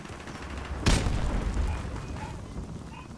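M16 rifle fire in Call of Duty 4 Remastered: one sharp, loud gunshot burst with a booming tail, standing out from a steady wash of game ambience.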